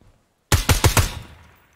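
Four rapid gunshots ring out close and loud in the tactical shooter Ground Branch, evenly spaced in a quick burst, then a decaying reverberant tail fades into near silence.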